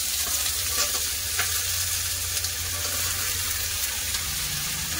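Taro, radish and potato frying with onion in a hot pan, a steady loud sizzle with faint stirring scrapes throughout, no voices.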